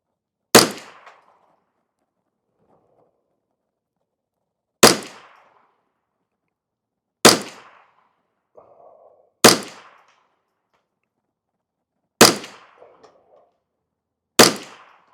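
Six loud, sharp rifle shots of Federal Gold Medal Target rounds fired at slow, irregular intervals, each a crisp crack with a short decay, separated by near silence.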